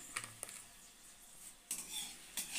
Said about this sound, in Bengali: এবার আমি আলু ভাজাটা দিয়ে দিচ্ছি পাতে।